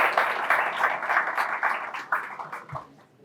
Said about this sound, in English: So please, a round of applause.